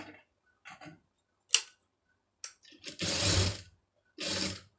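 A sewing machine stitches a puff sleeve border with lining, sounding as short clicks and taps followed by two louder, sustained whirring runs nearby.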